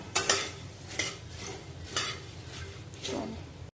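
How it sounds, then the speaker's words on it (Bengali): Puffed rice being roasted in a kadai, with a handful of scraping, clinking stirs against the metal pan spaced about every second, close and soft with no talk. "আবার একটা কড়াই হ্যাঁ মুড়িটা ভেজে নিচ্ছি"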